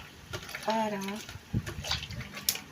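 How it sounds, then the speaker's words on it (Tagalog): Water splashes and trickles as small anchovies are rinsed in vinegar for kinilaw, a short burst of liquid handling under a person talking. "Yan, hugasan ko muna siya sa suka."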